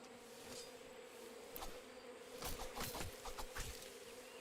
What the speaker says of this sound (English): I hear like wasps